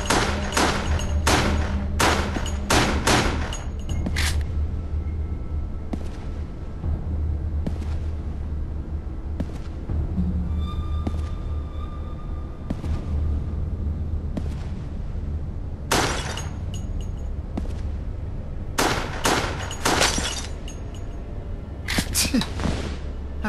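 Gunfire from the horror shooter Resident Evil: The Darkside Chronicles, with bursts of sharp shots clustered at the start, middle and end over a steady low rumble of game ambience.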